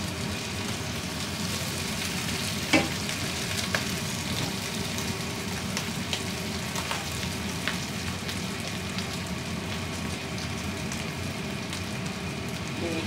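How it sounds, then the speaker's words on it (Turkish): Potatoes fry in oil in a pan beneath pilav, a steady soft sizzle and crackle that continues evenly, with occasional small clicks and no talking. "Bir kısmını kızarttım, diğer tarafını çeviriyorum."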